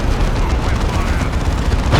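Steady, dense battle gunfire roars from a Predator tank and other units in Warhammer 40,000: Dawn of War II – Chaos Rising, with a continuous loud rumble of shots and blasts and no clear gaps.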